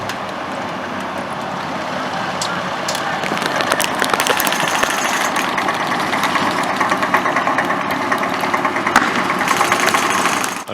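A tank engine runs steadily and loudly at a WWII airsoft reenactment of Seelow Heights, a continuous rumbling idle with rattling, knocking texture that grows slightly louder partway through.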